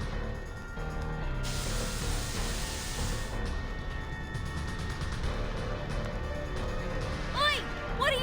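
Spores are sprayed in the video game Reverse: 1999, a bright, sustained hissing burst of a couple of seconds layered over a continuous bed of game music and mechanical effects.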